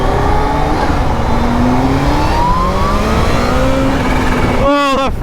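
A Kawasaki Z H2 motorcycle engine revs loud and close, its pitch climbing in smooth sweeps as it pulls away, then cutting off abruptly before a brief sharp rise at the end.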